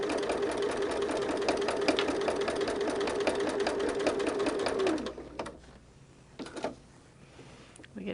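A domestic sewing machine stitches a holiday table runner in a steady, fast, close-up mechanical whir that stops abruptly about two-thirds through, followed by a few faint clicks and handling noises.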